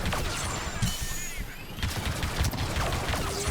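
Rapid blaster fire rattles through a Star Wars Battlefront battle scenario, with dense overlapping shots, crackling bursts and game effects filling the mix at a steady, busy level.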